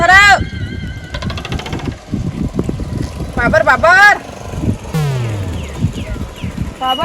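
A motorcycle engine drones and shifts pitch under loud outdoor voices, with wind buffeting the microphone.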